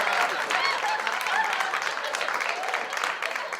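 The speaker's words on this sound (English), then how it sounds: "I'm giving myself an applause" Canned applause triggered from a sound pad, a moderately loud burst of crowd clapping with light cheering that carries on evenly for a few seconds.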